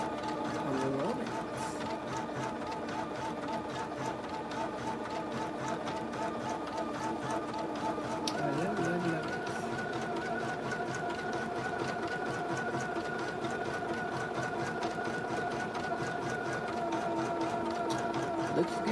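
An embroidery machine stitches in a steady, moderately quiet mechanical hum with a faint rhythmic chatter, and a person talks intermittently over it.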